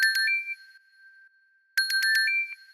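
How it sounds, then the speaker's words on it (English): Bright synthetic bell tones from a phasing bells synth effect ring out in two clusters of quick strikes, each ending in a sustained shimmering note that fades, with silence between. "I use the phasing bells for now."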